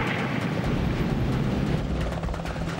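A 10-ton Seahawk helicopter flying near an Aegis warship, a loud, continuous rotor and engine roar that holds steady throughout, with no speech.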